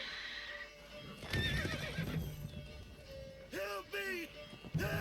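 Roach, Geralt's horse in The Witcher video game, whinnies twice in close, loud bursts, with hoofbeats and game ambience around them and a voice speaking over part of it.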